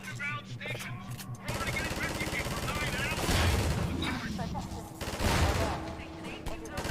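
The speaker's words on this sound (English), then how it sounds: "I can shoot these people as well" Sustained rapid gunfire in Half-Life 2, dense and loud over continuous game noise and music, with heavier blasts partway through.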